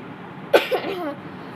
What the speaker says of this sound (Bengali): একটু ইগনোর করো, আমার একটু কাশি হয়ে গেছে,